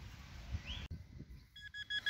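Target tone from a Nokta Simplex metal detector on a beach hunt, a couple of short bright beeps near the end, fairly clear over wind rumble and handling noise.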